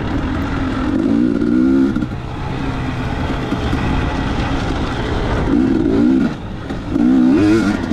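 Dirt bike engine on a race track, steady loud motor drone with rising and falling revs in repeated surges, close and prominent with no talking.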